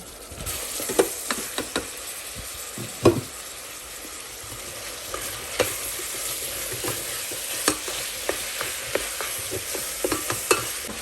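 Breakfast sausage frying in an Instant Pot on sauté mode, a steady sizzle broken by scattered pops and scraping stirs, close and fairly loud.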